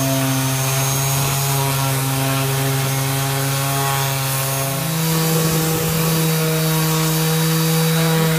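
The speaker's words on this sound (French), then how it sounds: "je n'ai aucune pitié pour cette pauvre ponceuse Bosch, car c'est vraiment de la peinture ancienne" A steady, loud Bosch PSM 200 AES electric sander drones continuously against old painted wood on a stair step, its motor tone shifting slightly in pitch partway through, with scraping texture throughout.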